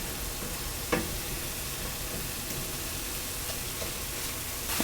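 Vegetables sautéing in a pan for a meatloaf stuffing, a steady close hiss and sizzle with occasional scraping clicks as they are stirred.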